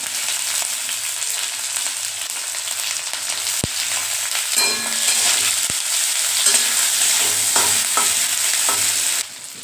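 Onion and ripe green chili with cumin frying and being stirred in a pan, a steady close sizzle with scraping stir strokes and a few sharp knocks, no talking.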